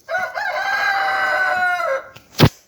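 A loud, drawn-out guinea hen call rising and holding after laying an egg, followed by a short sharp cluck or knock near the end.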